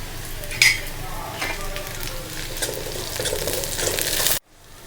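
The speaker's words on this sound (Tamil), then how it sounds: "இப்போ பார்த்திங்கன்னா வெங்காயம் நல்லா வதங்கிடுச்சு" Onions and a couple of sprigs of curry leaves fry in oil for a Pongal kuzhambu tempering, a steady close sizzle with stirring scrapes and a brief clink before the sound cuts off abruptly.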